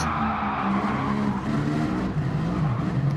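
A race car in Gran Turismo 7 braking hard into turn 8 at Sardegna B, with a steady engine drone and tire noise shifting in pitch as it slows, close and continuous without talk.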